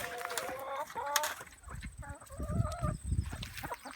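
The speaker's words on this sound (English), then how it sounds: "I have five banty chickens in here with them." Bantam chickens in a farm coop shared with pigeons: soft, scattered clucks and short warbling calls, fairly near but quiet, with faint bird chatter in the background.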